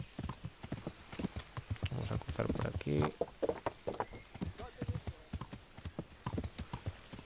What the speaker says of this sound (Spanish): Qué gusto dar montar un caballo que no te tire cada 30 segundos.